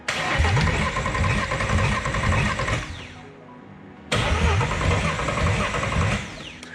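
Turbocharged Ford AU engine cranking and firing on its first start, loud and close, with a rough running burst, a brief drop to a quieter stretch, then a second burst of cranking and running.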